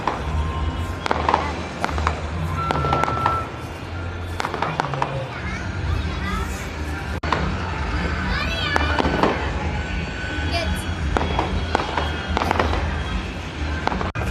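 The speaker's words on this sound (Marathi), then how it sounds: "आमच्या इथे आता फटाका फुटत आहे।" Firecrackers burst outdoors during a kite-flying day: a string of sharp cracks and pops, some near and loud, others scattered farther off, with whistling rockets, under children's and people's voices talking.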